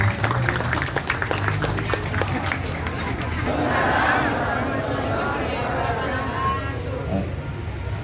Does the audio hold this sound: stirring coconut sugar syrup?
no